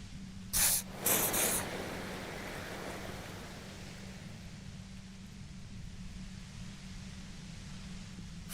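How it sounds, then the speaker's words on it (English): A steady wash of white-noise hiss in the video game Disco Elysium, with two brief louder bursts of bright static near the start before it settles into a constant, even hiss with no voices. "You hear through the white noise. It's especially bad suddenly."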